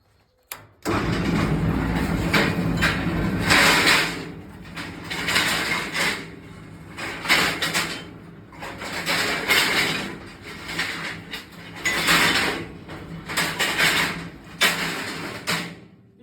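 A shot blasting machine switches on and tumbles a load of parts, with a sudden start followed by repeated rumbling surges and clattering bursts as the drum turns.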